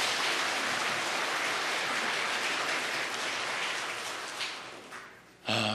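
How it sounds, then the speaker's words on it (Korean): A church congregation applauds in thanks after the choir's hymn at a Sunday worship service, a broad wash of clapping from many hands that slowly fades before a sudden short burst at the end. "우리 뜨겁게 감사의 박수 한번 하시겠습니다"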